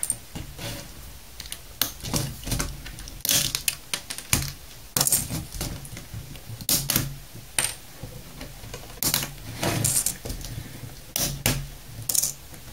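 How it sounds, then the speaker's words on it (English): Keys are pried off a laptop keyboard one after another, giving sharp plastic clicks and snaps in irregular bursts with quiet pauses between, close up and alone. "So we're just going to pop all the keys out."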